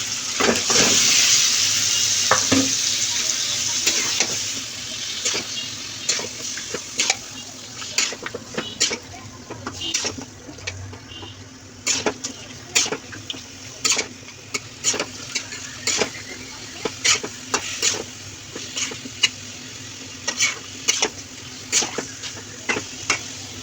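Meat sizzles in a pan of cooked-down masala while being stirred, a steady hiss at first, then repeated scraping and clacking strokes of the spoon over quieter frying.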